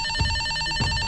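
A telephone rings inside the Escape the Backrooms horror game, a steady electronic ringtone of layered sustained tones pulsing throughout the short span, fairly loud and without talk.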